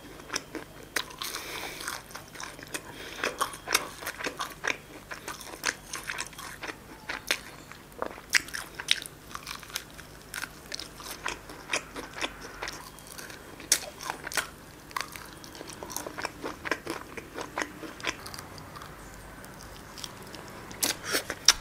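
Crispy KFC Zabb chicken wings bitten and chewed close up, with repeated sharp crunches and crackles over about twenty seconds against a quiet background.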